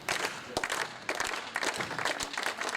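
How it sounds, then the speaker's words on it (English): A bowling audience claps in encouragement during a professional strike-tour match between France and Sirius, the applause steady and broadband throughout, with sharper individual claps and a commentator's voice mixed in. "clapping of encouragement"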